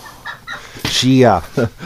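A duck named Limpy, an injured bird being held for examination, lets out a few short harsh calls and one longer loud squawk close by, with brief quiet gaps between.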